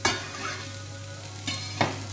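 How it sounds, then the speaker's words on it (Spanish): Three garlic cloves sautéing in olive oil in a large pot, a close, steady sizzle with a low hum beneath and a few sharp spoon knocks and stirs. "Aquí vamos a sofreír los tres dientes de ajo"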